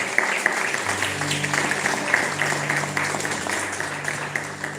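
Church congregation applauding during a worship service, a steady dense wash of clapping that holds for several seconds with sustained music or organ tones underneath.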